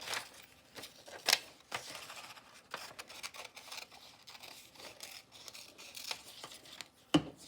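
Scissors snip through paper while a turkey feather shape is cut out, a faint series of irregular small cuts and rustles with a couple of sharper clicks.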